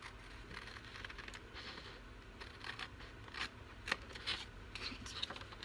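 Scissors snip paper for a junk journal in an altered book, a series of short, crisp cuts and rustles, irregularly spaced and growing a little sharper toward the end.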